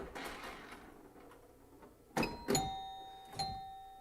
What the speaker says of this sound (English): Let me show the chimes on Mars Trek really quick